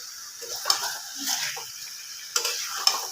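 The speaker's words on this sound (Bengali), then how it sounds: "গ্যাসটা একটু বাড়িয়ে দিয়ে আবার আমি একটু চিকেনটাকে কষিয়ে নেব" Chicken being stir-fried down (kosha) with black pepper in a pan on a gas flame, giving a steady soft sizzle with a few sharp spatula clinks and scrapes against the pan, close and alone.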